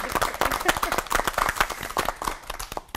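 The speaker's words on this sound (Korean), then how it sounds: "분의 목사님께 박수 부탁드리겠습니다" Audience applause for three pastors at the close of a Korean church broadcast lecture on family worship, a dense patter of hand claps running steadily throughout.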